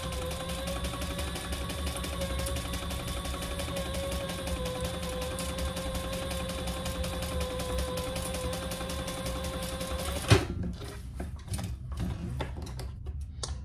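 A sewing machine runs steadily while top stitching a Dayna waist pack, a continuous mechanical whir for about ten seconds that stops abruptly, leaving faint handling clicks and rustles.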